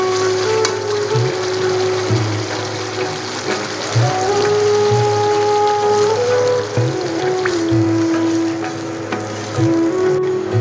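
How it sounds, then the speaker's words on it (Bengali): Water goes into a pan of sizzling masala for chicken kofta korma gravy, giving a close, continuous frying hiss with scraping and stirring knocks and some shifting tones. "এখন এর মধ্যে আমি গ্রেভির জন্য জল দিয়ে দেবো।"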